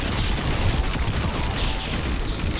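Rapid turret gunfire in the roguelike game Pathogenic keeps up a continuous dense crackle of shots, steady and loud with no pauses.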